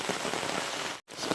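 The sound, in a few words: heavy rain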